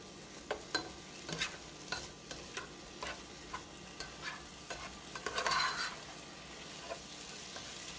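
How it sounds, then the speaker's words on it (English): Lasagna ingredients sauté in a pan over medium heat, with a steady low sizzle punctuated by regular scraping clicks of a utensil stirring through the mixture, close and moderately quiet. "go ahead and just saute this for like another 2 to 3 minutes"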